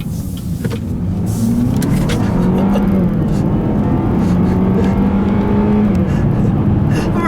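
A 2015 Buick Regal GS AWD in GS mode accelerates along a back road, its engine note droning loudly and climbing in pitch over steady road noise inside the cabin.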